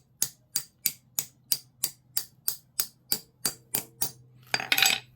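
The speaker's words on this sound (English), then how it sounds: "Once it's centered, then just give it a few taps." Upholstery cap being tapped down with a socket from a socket set, a dozen evenly spaced sharp metallic taps in a steady rhythm, close and clear, ending in a brief scuffing rustle.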